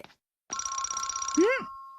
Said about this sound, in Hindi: ये जरूर शिजुका का फोन होगा।